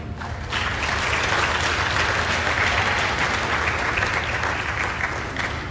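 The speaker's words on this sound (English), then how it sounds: "like a nice round of applause for our President" A room full of people claps steadily at a sports awards ceremony, a dense, even wash of applause that starts abruptly and carries on without fading.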